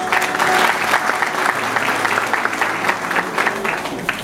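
Audience applause at a ceremony for local tradespeople in Balıkesir who opened workshops after a training course, steady sustained clapping from a gathered crowd with faint voices underneath.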